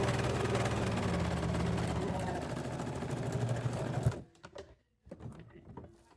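A sewing machine runs in one continuous, fairly loud stitching burst for about four seconds, with a fast, even mechanical chatter that stops sharply and gives way to a few light clicks and handling noises.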